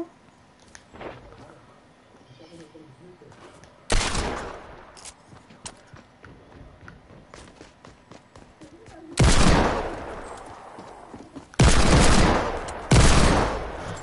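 Video game gunfire during a tournament match, several loud sharp bursts and single shots spaced apart, with scattered quieter clicks and thuds between them.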